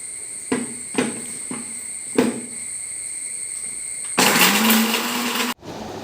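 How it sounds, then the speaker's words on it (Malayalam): A few sharp knocks and a steady high whine, then a mixer grinder roars loudly grinding coconut and salt for over a second before stopping abruptly. "എല്ലാം കൂടി നമ്മൾ മിക്സിയിലിട്ട് ഒന്ന് അരച്ചെടുക്കുക"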